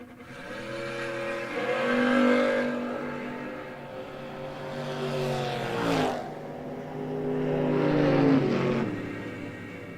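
Drag race cars, a red Malibu and a white S10 pickup, launch and race down the strip, engines revving in harmonic sweeps that rise and fall across repeated bursts, loud and close with no talk.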